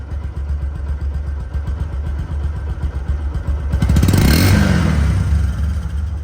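A 2021 Bajaj Discover 125cc motorcycle idles with a close, even putter, then revs up sharply into a louder rising roar near the end and holds there.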